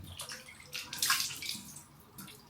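Water splashes and runs in bursts as a face is rinsed at a sink, with close, uneven sloshing and a louder splash in the middle.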